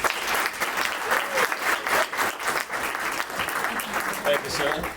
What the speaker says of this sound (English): Let's have a round of applause for him and a nice welcome